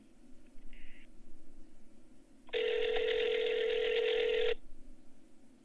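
A telephone rings unanswered through an earpiece: a faint short tone, then one long steady electronic ring that cuts off, over low line hiss.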